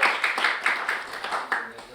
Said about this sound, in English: Very good. Round of applause.